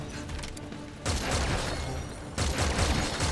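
Gunfire in the video game Metal Gear Survive comes in dense bursts, loud, with short pauses between volleys.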